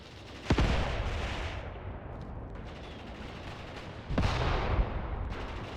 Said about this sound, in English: Enemy artillery fire is now striking the tanks, which is all fine by me.